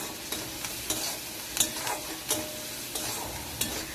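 Onions frying with salt in a pan, stirred with a utensil: a steady close sizzle under repeated soft scraping strokes at an irregular rhythm, with no voices.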